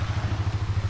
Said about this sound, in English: listen to that little boat in the background